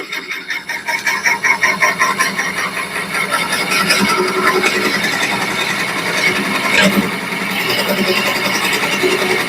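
Drill press or mill running at about 300 RPM, cutting into a workpiece for a bourbon whiskey smoker; a steady loud grinding, rasping drone with rhythmic pulsing at the start, close up and continuous.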